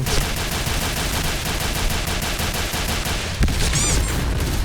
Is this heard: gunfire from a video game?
yes